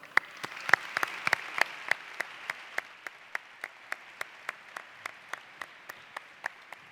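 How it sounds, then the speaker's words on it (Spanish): Applause welcoming a speaker at a university graduation ceremony, starting as a fuller crowd clap and thinning to one or two people clapping in a steady, evenly spaced rhythm, fairly close. "rebem amb un fort aplaudiment al senyor Jaume Giró"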